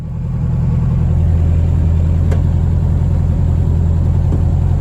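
VW car engine running steadily during a short drive around the block after a clutch replacement, heard from inside as a loud, constant low rumble with an even drone and no talk.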